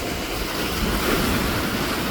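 Sea waves washing onto the beach at Funtana near Poreč, Croatia, a steady broadband wash with wind buffeting the microphone, continuous and fairly loud throughout with no voices.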